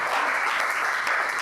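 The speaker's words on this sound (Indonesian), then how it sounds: "kita kasih aplaus untuk Rian" Audience applause for a speaker at an Indonesian Bank Indonesia event, steady and dense clapping from a full room, continuous and fairly loud throughout with no talk over it.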